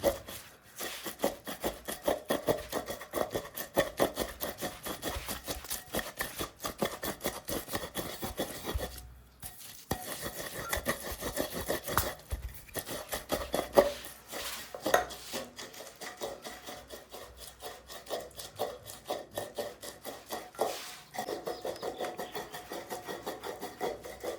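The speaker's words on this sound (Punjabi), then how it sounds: "ਇਹਨੂੰ ਚੰਗੀ ਤਰ੍ਹਾਂ ਰਗੜਾ ਲਾਣਾ ਹੈ ਤੇ ਜਿਸ ਟਾਈਮ ਬਰੀਕ ਆਟੇ ਦੀ ਸ਼ਕਲ ਲੈ ਲੈਣਾ" Almonds ground by hand into fine powder for sardai, a continuous rough rubbing and scraping of a pestle in a mortar, close and fairly quiet, with uneven rhythmic strokes and a brief pause midway.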